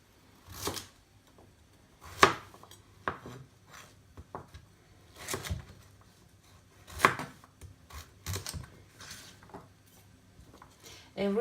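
A knife chops vegetables for an outdoor campfire meal, giving scattered close knocks and scraping cuts on a board at an irregular pace, with quiet gaps between bursts.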